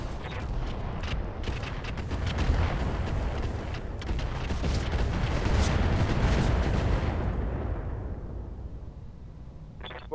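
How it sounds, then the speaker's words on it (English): A dense barrage of weapons fire in the mech game Roguetech, with booming explosions and rattling shots piling into one continuous roar that swells and then tapers off, loud and close. "Firing."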